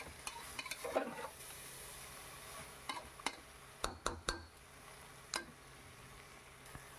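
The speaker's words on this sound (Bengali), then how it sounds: "চালের সাথে ফ্রাই করে নিচ্ছি চিকেনটা" Chicken fries with rice in a single pot for a one-pot chicken rice dish, giving a faint, quiet sizzle broken by several sharp clicks and knocks of a spoon against the pot, no voices.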